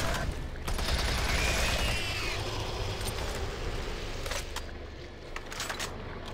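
A shotgun fires in the DOOM 3 video game, loud blasts and rattling bursts set against dense game noise, with a few sharp cracks near the end.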